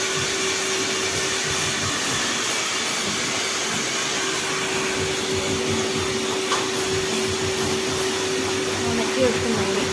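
Hair dryer blowing on freshly cut long hair in a salon, a constant loud whirring hum with a steady tonal whine, running without pause while faint talk sits underneath.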